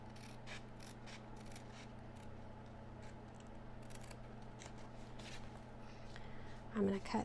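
Scissors snip through card stock in quick light clicks and crisp cuts against a steady low hum, with a louder handling clatter near the end.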